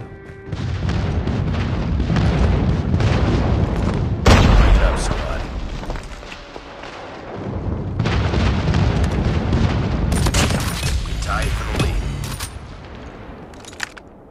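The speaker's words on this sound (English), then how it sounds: "Friendly airstrike incoming." Airstrike explosions in Call of Duty, heavy booming blasts rolling in loud successive waves with crackling debris, a sharp burst near the start and another later, dense and continuous.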